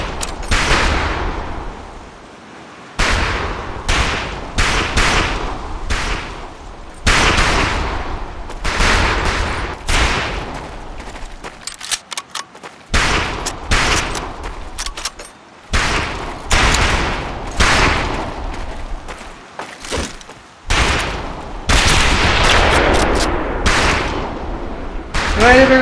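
Rapid scoped-rifle gunfire at long-range targets in the Medal of Honor Pacific Assault video game, loud sharp shots in dense bursts with short pauses, continuing for the whole stretch.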